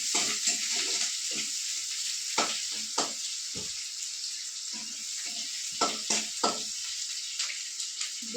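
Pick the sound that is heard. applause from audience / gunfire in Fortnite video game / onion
onion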